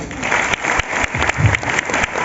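Applause from a university audience at a talk, a loud burst of clapping with uneven swells and breaks over a couple of seconds, with no talk over it.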